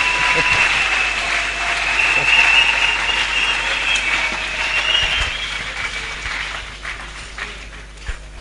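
A church congregation applauding during a worship service, a loud sustained wash of clapping from a large crowd that tapers off toward the end, with faint voices mixed in.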